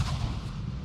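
Airdrop bombs in a video game going off as one dense, loud, sustained blast of rumbling explosion noise that lasts just under a second.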